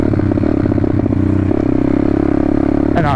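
A pit bike motorcycle runs loud and close at steady revs, its engine note shifting as it changes up a gear partway through, with a brief rise in pitch near the end.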